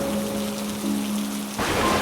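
Steady rain falls continuously for a week-long downpour during a storm, a dense hiss with a faint hum in the background and a sudden louder surge near the end.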